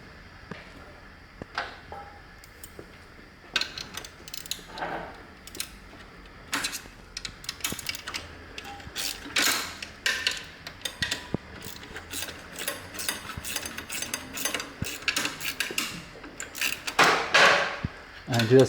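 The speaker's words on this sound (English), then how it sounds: "and you just tighten the bolt" Ratchet tightening an exhaust bolt on a 2017+ Harley-Davidson Touring Milwaukee-Eight during a Danmoto Highwayman exhaust install, heard as scattered close clicks and metallic ticks in bursts over about nineteen seconds, with faint speech in places.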